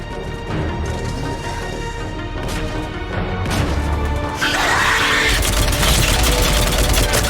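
Heavy gunfire in Mass Effect 3 during the Omega DLC, rapid bursts and crashing impacts over a dense battle din that grows louder and more intense halfway through, with a sustained roar at the end.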